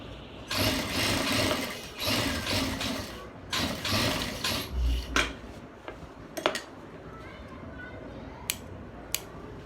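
A sewing machine stitches a half band in several loud, rapid mechanical bursts, then falls quieter, leaving scattered clicks and handling noises close by.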